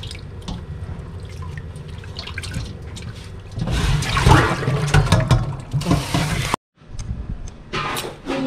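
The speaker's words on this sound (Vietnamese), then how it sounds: "Giờ rửa 3-4 nước nghe ra mình ăn sống thì cho nên rửa kỹ kỹ tí xíu" Tap water runs and splashes as fresh ingredients for rice-paper spring rolls are rinsed several times in a sink, quieter at first then a louder gushing stretch, a brief cut to silence, and more splashing.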